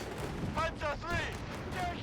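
Battlefield explosions and gunfire from the real-time strategy game Company of Heroes 3, dull booms and rattling shots in quick succession, heard under a commentator's talk.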